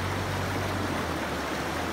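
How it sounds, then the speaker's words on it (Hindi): A fast-flowing river on the way to a village rushes in a loud, steady roar, a dense continuous wash of water close by with no voices. "इतनी तेज़ पानी के बहाव की वजह से"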